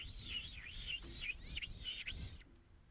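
A person's voice imitating a pigeon call: a run of wavering, warbling whistled coos, several pulses in quick succession, close and fairly loud, stopping abruptly before a brief quiet tail.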